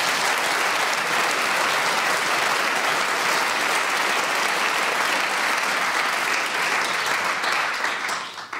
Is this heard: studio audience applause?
yes